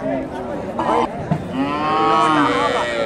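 A cow at a Dakumara cattle market gives a sustained, rising and falling moo lasting a few seconds, loud and close, with faint crowd murmur behind it.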